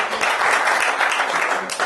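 A church congregation breaks into applause, quick close clapping with a cheering crowd, brief and loud.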